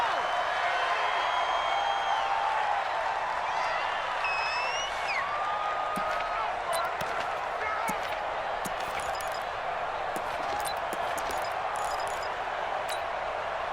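A steady roar from a stadium crowd in the American football video game Madden NFL 20, continuous and full, with scattered claps and a commentator talking over it.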